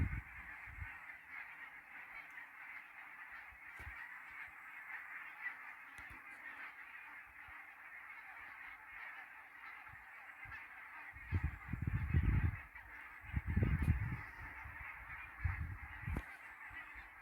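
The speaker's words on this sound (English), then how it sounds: "Canada goose." Canada geese honking in the distance, repeated calls over a steady hiss of background noise, with a louder cluster of honks near the end.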